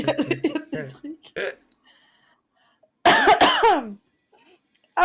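Someone talks, then a cluster of harsh coughs bursts out after a pause, close and loud, with a short voiced catch at the end.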